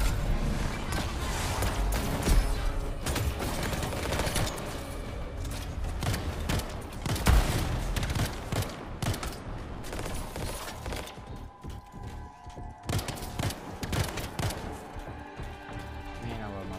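Rapid gunfire from soldiers in the game Anthem, dense bursts and crashing impacts crackling steadily under a busy mix of game sounds and voices.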